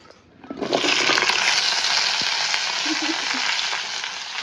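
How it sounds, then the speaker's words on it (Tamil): Cut okra drops into hot oil and fries, a loud close sizzle that bursts in after a short quiet moment and then holds steady and crackling throughout. "வெட்டி வச்ச வெண்டிக்காயை எண்ணெய் கொதிக்க வச்சிருக்கிறேன், பொரிக்கப்போம்"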